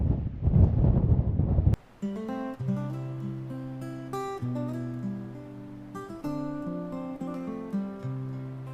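Strong wind buffets the microphone on a misty, cloud-covered Scottish mountain summit in a loud, rough burst lasting under two seconds, then abruptly gives way to music.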